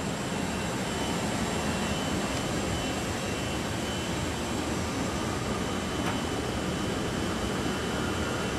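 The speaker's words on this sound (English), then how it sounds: "So it starts the motor. Doesn't necessarily come all the way up to full RPM." A Weinig P1500 12-inch moulder's motor drones steadily while the machine sets itself, a loud continuous broadband roar with a faint high whine, unchanging for several seconds.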